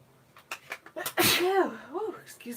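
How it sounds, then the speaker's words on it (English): A single loud sneeze bursts out close by. Soft vocal sounds come just before it and a breathy voice trails after. "I think I'm going to sneeze."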